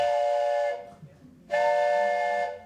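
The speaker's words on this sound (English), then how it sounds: "Blow the whistle." A train whistle sounds two long, loud, steady blasts separated by a short gap, the crossing signal blown as the Q in Morse code on a railroad.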